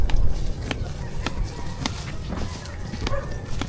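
A chicken clucks and squawks in a yard, short repeated calls over a loud rough background, fairly close, with no speech.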